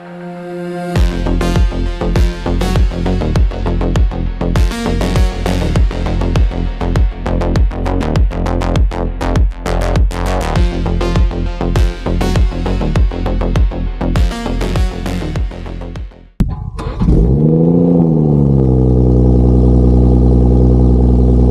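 A BMW 340i with a B58 engine runs loud and close, with rapid rhythmic pulsing through acceleration and gear changes, then settles into a deep steady drone near the end.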